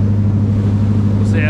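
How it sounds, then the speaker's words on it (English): A fishing charter boat's engine exhaust drones steadily and loud from up close, a deep low rumble with strong steady tones running throughout, with no speech over it. "Probably can't hear me over the exhaust"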